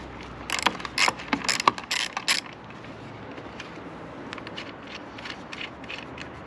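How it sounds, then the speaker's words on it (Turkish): A ratchet with a 10 mm socket works a bolt on a Honda Forza 250 motorcycle, a burst of quick clicking pawl strokes up close, then fainter scattered mechanical ticks. "10 numara lokmayla bunu söküyoruz"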